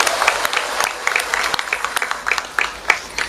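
An audience at an Indonesian community gathering breaks into brisk, dense clapping that sounds close and lively, with a voice briefly audible over it.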